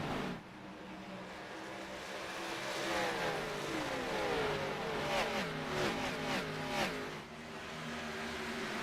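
A race car engine in a racing video game revs steadily at the Nashville Superspeedway, its pitch climbing and dropping in repeated sweeps as it shifts up through gears, loud and continuous with no talking.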